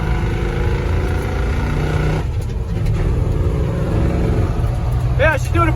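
A car with a swapped-in Hemi engine runs steadily while driving, a loud, constant low rumble from inside the cabin, with a brief dip midway and a person's voice breaking in near the end.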